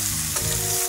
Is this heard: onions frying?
yes